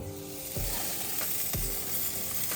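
Steak tips sizzle on a closed grill, giving a steady, dense frying hiss throughout, with a couple of soft low thumps and no talking.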